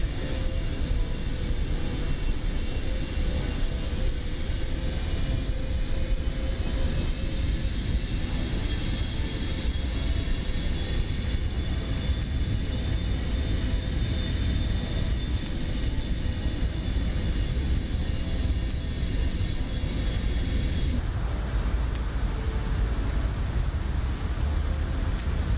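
Steady broadband drone of an airliner's engines in cruise during descent toward Nagoya in Microsoft Flight Simulator, a continuous even roar with no talk, its tone shifting slightly near the end.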